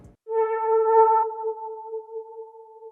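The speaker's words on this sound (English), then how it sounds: "for this one, I'm just playing one simple note" A single sustained synth note from a vintage R&B sample kit, a clean tone that sounds alone, strongest at the attack and then holding steady and fairly loud until the end.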